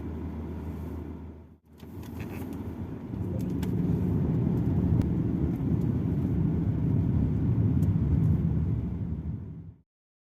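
A car interior after a door thud, with the engine and road rumble building into a steady low drone as the vehicle drives along on a sunny day, loud and continuous before cutting off.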